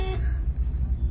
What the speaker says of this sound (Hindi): हॉर्न मार दिया?